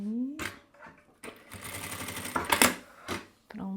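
A sewing machine stitches a fabric panel in short, uneven bursts of rapid needle clatter, close by, broken by brief pauses and small handling knocks, with a voice heard faintly at moments.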